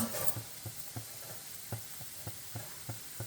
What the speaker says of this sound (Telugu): తాలింపుకి, పప్పు తాలింపుకి మినప్పప్పు, జీలకర్ర